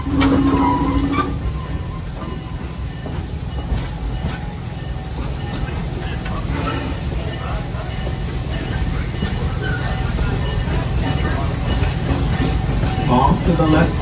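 Serengeti Express train at Busch Gardens Tampa rolling steadily with a constant rumble and hiss, with faint clacks and distant park noise, while a faint voice speaks under the noise.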